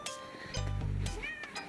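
A cat meows once, a short low tonal call, with a few faint higher chirps around it in a quiet room.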